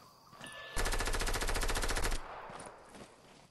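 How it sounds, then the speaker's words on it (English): A single long burst of rapid machine-gun fire in a video game, loud and close, running for more than a second before cutting off to quieter background sound. "Nick, shoot at him. Get attention"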